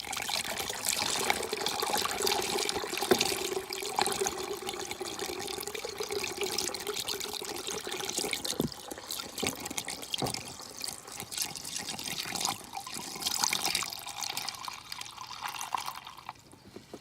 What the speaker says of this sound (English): And then I'm going to put the fertiliser that we've made back into this tub.